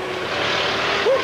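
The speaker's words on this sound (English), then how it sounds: "the beauty of this old Mercedes is there's an exhaust flap that you can open" An old Mercedes with its exhaust flap open in racing mode, on the 1996 London to Brighton centenary run, gives a loud, steady engine drone that swells briefly near the end.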